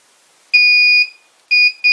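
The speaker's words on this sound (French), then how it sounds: "Je veux que le buzzer sonne." A mini drone receiver's buzzer sounds loud, shrill electronic beeps close by: one long tone, then two shorter ones in quick succession, alone with no other sound.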